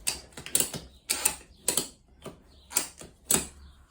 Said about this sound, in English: And then start ratcheting.